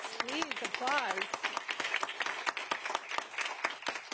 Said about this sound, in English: please, applause